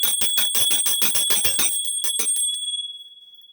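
A hand bell from a collection rings in a rapid string of bright, clanging strokes, then a few slower ones, leaving a high ringing tone that fades out alone.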